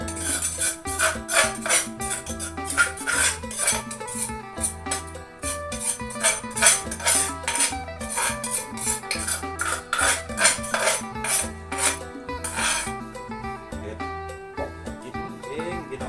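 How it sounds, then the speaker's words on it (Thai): Seasoning ingredients are pounded in a mortar for a bamboo shoot dish, with steady rhythmic thuds and clacks repeating close by, mixed with background music. "ตำเขาเครื่องกันเลย"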